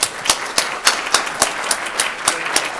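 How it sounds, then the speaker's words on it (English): Lecture audience clapping to welcome Professor Jagadish Shukla, a steady round of applause with distinct rhythmic claps standing out from the crowd. "let's give him a warm welcome with a round of applause"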